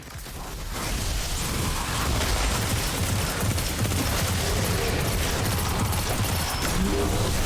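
Dense, continuous gunfire and explosions in the shooter video game Destiny 2, a loud rattling barrage with bursts and pops that holds steady throughout after a brief quieter start.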